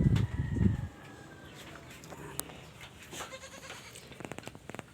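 Goats give a loud, close bleat at the start, then the pen settles into quieter shuffling and scattered knocks, with faint bird calls and a few sharp clicks.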